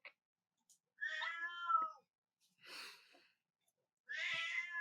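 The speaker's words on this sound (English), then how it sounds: "And she meowed like 5 times." A female house cat meows three times with short pauses between calls, close and clear against silence, each cry drawn out and rising and falling.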